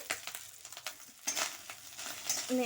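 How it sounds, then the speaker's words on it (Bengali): Grated coconut fries in a little oil in a pan before red amaranth greens are added, giving a soft crackling sizzle with scraping stir strokes and a faint metallic clink or two, fairly quiet and without speech. "নারকেলটা একটু ভাজা হোক"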